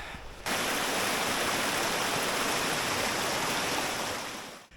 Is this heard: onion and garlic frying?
no